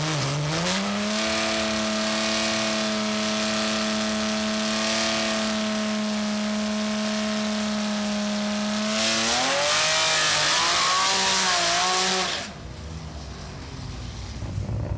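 A Z32 drag car at Sendai with a naturally aspirated VG30 engine and 6-port nitrous system roars loudly, holding a steady high drone before revs climb through shifts, then cutting off sharply and leaving quieter background noise.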